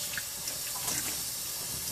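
Tap water running to rinse Woolite soap from a Cabbage Patch Kid doll, a soft continuous splashing stream with small bright spatters, fairly quiet and without speech.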